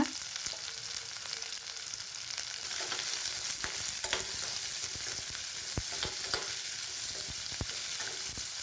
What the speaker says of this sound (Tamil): நான் ஒரு 200 கிராம் வந்து சின்ன வெங்காயம் சேர்க்குறேன்